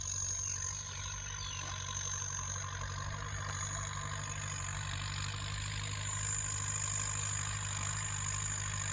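A tractor engine idles steadily with a low, constant rumble and no other sounds.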